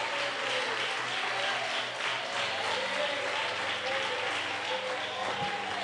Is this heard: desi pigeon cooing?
no